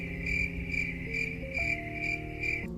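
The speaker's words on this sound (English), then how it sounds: "Straight crickets." Crickets chirp steadily in pulsing trills, the insect calls close and continuous with a faint tonal drone underneath, and no voices present.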